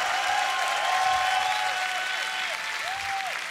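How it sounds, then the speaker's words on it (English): Steady, dense audience applause with cheering fills a beatbox battle hall at an under-18 world league event, loud and continuous throughout with a few whistles rising above the clapping. "Give it up for Deity, everybody. Make some noise."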